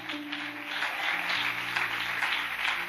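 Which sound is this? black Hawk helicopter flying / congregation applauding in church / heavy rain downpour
congregation applauding in church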